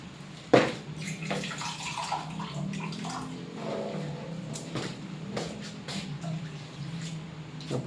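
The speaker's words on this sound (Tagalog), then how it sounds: "dagdagan natin ng konti tubig," Water poured into a simmering pot of fish soup with soy sauce, a soft splashing trickle that starts with a sharp splash and runs steadily underneath light kitchen noise.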